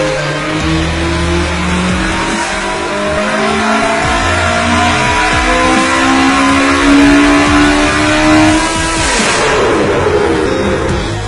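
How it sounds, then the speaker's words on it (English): A naturally aspirated Honda K24 four-cylinder racing engine built for about 500 horsepower revs hard and loud, rising and falling through sustained high-pitched wails over several seconds, close up with no talk. "building a 500 horsepower naturally aspirated Honda K24 engine"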